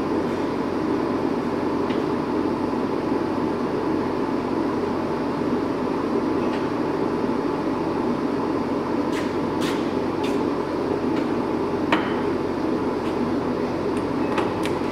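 A 28-inch by 72-inch Axelson engine lathe runs on its half nut in a shop, giving a steady, even mechanical hum with a few faint clicks and ticks near the end.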